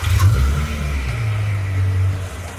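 A 2007 Porsche 911 GT3 RS settles into a steady, low-pitched idle heard from inside the cabin, a continuous engine hum with slight fluctuations and no talking.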